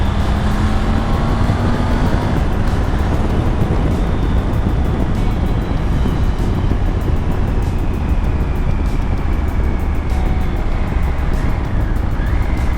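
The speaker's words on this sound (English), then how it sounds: "Since it is a 3-cylinder engine, it has a better exhaust as well." A Triumph Tiger 900 GT three-cylinder motorcycle from 2020 riding along, a steady engine and exhaust drone mixed with heavy wind rush, continuous and loud throughout.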